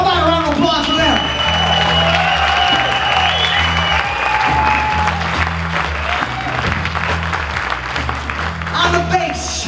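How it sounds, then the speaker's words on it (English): Concert audience applauding a blues-rock band in a steady, dense round of clapping with scattered cheers and shouts, loud and sustained, while sustained tones from the stage and voices carry through underneath. "How about a round of applause for them?"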